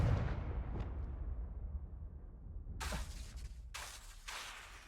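A Confringo blasting spell goes off in Hogwarts Legacy, giving a loud booming explosion with a shattering burst, then two more sharp blasts close by, with no talk over them.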